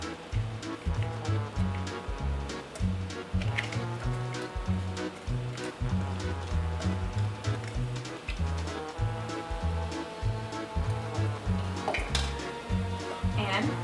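Cauliflower fried rice with vegetables and scrambled egg sizzling in a hot pan, a steady frying hiss with occasional stirring clatter, close and continuous.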